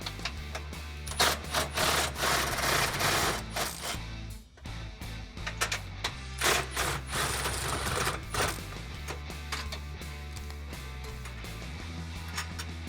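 Wrenching nuts off studs on the inside of a Jeep Wrangler JL frame rail, a close run of metallic clinks, ratcheting and rubbing scrapes with a short pause midway.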